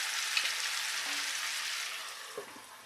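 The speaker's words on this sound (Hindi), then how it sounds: "और अब फिर से हम इसे ढक देंगे और इसे 2 मिनट दूसरे साइड से भी सिकने देंगे।" Fish frying in a pan with spices gives a soft, steady sizzle, fairly faint and continuous, with a couple of small clinks or taps near the start and toward the end.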